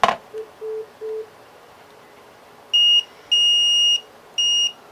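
A Greenlee 210A multimeter in continuity mode gives clear electronic beeps: a few faint short tones, then three louder, longer beeps near the end, against a quiet room.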